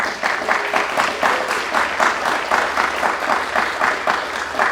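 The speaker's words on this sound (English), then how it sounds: "Give her a round of applause for that" Audience applause at a community book event fills the space, dense and even clapping held at a loud, steady level throughout with a slightly pulsing texture.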